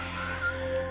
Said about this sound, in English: of which we have a lot around here, parrots and what have you. You'll hear them squawking every now and again.